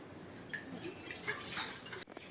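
Water running and dripping while a glass bowl is rinsed, soft splashes and trickles, fairly faint and close, ending with a brief break.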